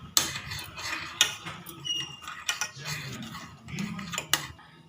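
A spoon stirs kashaya powder into boiling water in a pot, giving repeated metallic clinks and scrapes against the vessel over a soft bubbling background, with no talking.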